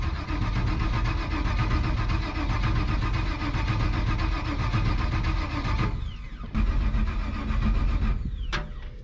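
A car engine cranks over and over without catching, a loud, continuous starter churn lasting several seconds with a brief break and a stuttering restart near the end.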